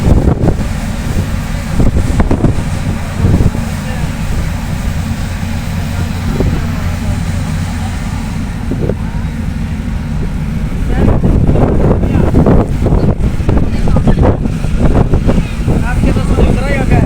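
Sea wind rushes across the upper deck of a ro-ro ferry at sea, a continuous buffeting roar on the microphone that grows rougher toward the end, with intermittent voices mixed in.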